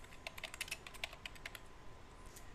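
Rapid computer keyboard typing, a short burst of crisp clicks entering a menu name while setting up a WordPress blog, fairly close and faint with no talk.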